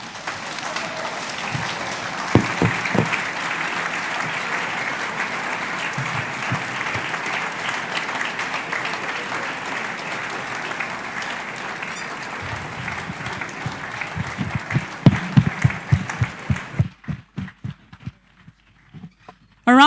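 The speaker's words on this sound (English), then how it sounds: "A round of applause, please." Audience applause fills a hall at a Nigerian Independence Day platform event, dense and sustained for about fifteen seconds, then thinning into scattered louder claps before stopping abruptly.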